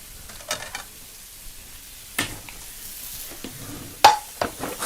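Thin steak searing in a hot pan, a faint steady sizzle broken by a few louder scrapes and clatters of metal against the pan, close by with no talk.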